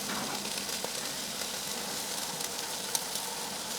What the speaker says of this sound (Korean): 기름 올라오네. 톡톡 올라오네